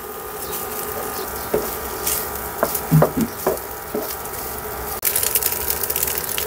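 Cold cooked rice drops into a hot pan with mushrooms for nasi goreng, followed by sizzling and scraping stir-fry strokes of a spatula, with several distinct taps and a louder clatter near the end.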